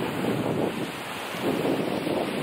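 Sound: strong ocean surf on a beach

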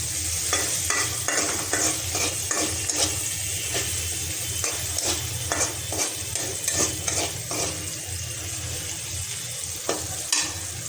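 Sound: onions frying in a pan for fish curry

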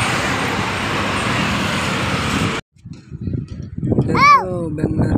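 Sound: road traffic in Bangalore

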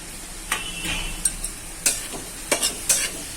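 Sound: grated bottle gourd cooking in hot ghee

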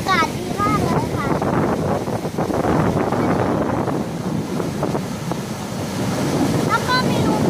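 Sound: sea waves and wind at Laem Mae Phim beach, Rayong

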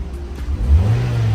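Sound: 1999 Honda CR-V engine revving

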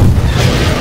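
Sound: grenade explosion in the video game Garry's Mod

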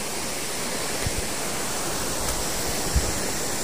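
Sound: river flowing below a bridge

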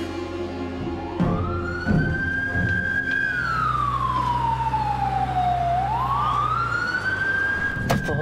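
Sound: ambulance siren

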